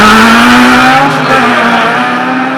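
A BMW drag car launches down the strip at Jamwest Speedway, its engine roaring loud and close with a steady rising tone.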